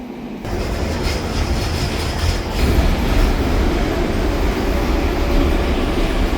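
SkyTrain pulling away from an elevated station platform at the Edmonds overpass, a loud steady roar of rolling wheels and motors that swells and thickens partway through, with faint clickety-clack and wheel squeal.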